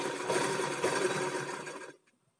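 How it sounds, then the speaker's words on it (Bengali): Sewing machine stitching a zipper onto a sweater along the edge of the chain teeth, a steady close whirring run that continues for about two seconds and then stops abruptly. "এই সেলাইটি চেনের যে দাঁত আছে ওইটির ধারেই ধারেই সেলাই করতে হবে।"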